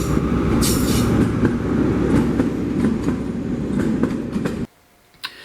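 Train of London Transport carriages hauled by HST diesel power units, a steady loud rumble with rhythmic wheel clicks passing close by, then cutting off abruptly to near silence with one brief knock.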